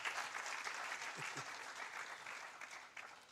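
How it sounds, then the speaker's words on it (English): Audience applause at a climate justice symposium, a steady wash of clapping held at a distance for the whole stretch, fairly faint with no one speaking over it. "Let's clap for the LOC 5."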